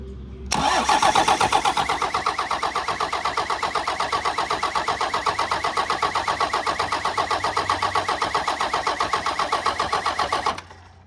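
An old Dodge diesel engine with a turbo and no intercooler piping cranks continuously for about ten seconds, a loud close rhythmic chugging of the starter that never quite catches, then stops abruptly.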